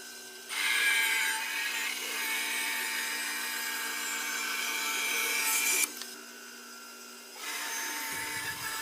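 A bandsaw rips a board for pizza cutter handles against a magnetic Carter fence, a steady close whirring cut that runs for several seconds, drops briefly as the blade frees, then resumes.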